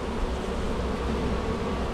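Bees swarming around a bin give off a dense, continuous buzz, close and steady throughout, with no voices.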